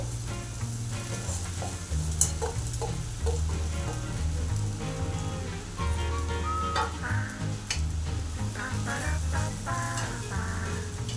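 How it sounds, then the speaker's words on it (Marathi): Cooked rice is stirred into a hot tempering in a pan for tamarind rice, producing a continuous close sizzle with scraping and clinking of the spoon, no voices present. "आता हा मोका केलेला भात आपण या फोडणीमध्ये घालून देऊ"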